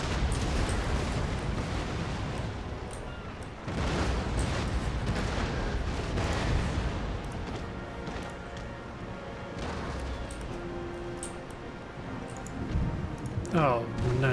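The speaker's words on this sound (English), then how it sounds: "Ground shot to try to take out something on that brig." Ship cannons fire in the naval battle game Empire: Total War, heavy booms and crashing blasts repeating over continuous battle noise while someone talks over it.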